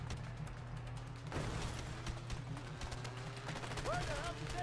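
Gunfire in the video game A Way Out: a dense run of sharp shots over a steady low hum, with voices talking throughout.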